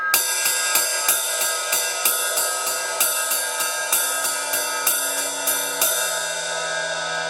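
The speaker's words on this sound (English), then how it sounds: "And back riding with the tip." A Zildjian i series 20-inch ride cymbal is ridden with the tip of a drumstick in a steady, quick pattern of about fifteen pinging strokes over a shimmering wash, heard alone and close up.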